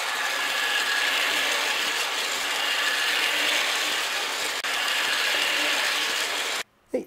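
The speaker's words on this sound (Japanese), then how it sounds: "動かしますね。" A small Daiso mini toy train, an E351 Super Azusa model, runs along its toy track through a tunnel and over a bridge, giving a steady, close, whirring mechanical buzz that stops abruptly near the end.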